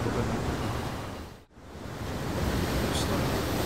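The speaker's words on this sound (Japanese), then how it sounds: "大津波が海岸に到達しました。" Tsunami waves reach the coast in a Chiba Prefecture disaster simulation, a loud continuous roar of surging water that briefly drops out midway, then resumes.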